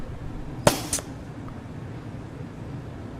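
Gunfire in the game Papers, Please: one sharp, loud crack followed closely by a second fainter shot, then steady background hiss.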